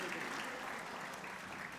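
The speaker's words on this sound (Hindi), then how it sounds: "जोरदार तालियों से सभी सम्मानित अतिथियों का अभिवादन करें।" An audience at a poetry gathering in Pune applauds the honoured guests, a dense steady patter of many hands clapping, heard fairly quietly and at a distance for the whole moment.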